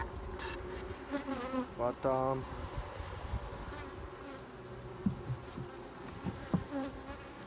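Bees from a full colony buzz around a horizontal Langstroth hive, a steady close drone with individual insects flying past the microphone and a brief word spoken over it.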